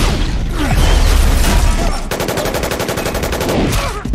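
Gunfire in a scene from The Avengers film: a loud, dense barrage of shots and crashing impacts, then a rapid machine-gun burst with evenly spaced rattling reports, all heard close and with no talking.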